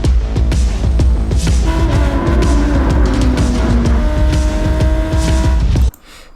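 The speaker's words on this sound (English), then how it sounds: "we can hear that Lamborghini, the sound it makes" A Lamborghini in Gran Turismo 7 roars past at speed, its engine loud and rising in pitch through gear changes before cutting off abruptly near the end.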